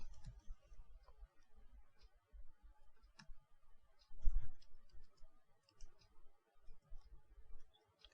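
Computer keyboard being typed on in a Windows setup while entering Arabic text, a scattered run of soft, faint key clicks with brief pauses and one slightly louder tap, no talking.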